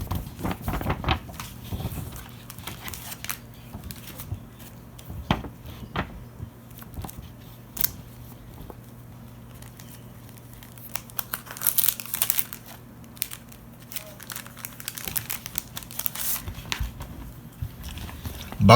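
A paper envelope holding banknotes, sent by post from Canada, being torn and opened by hand, with close crinkling, ripping and scattered crisp paper rustles spread over the whole stretch, no talk.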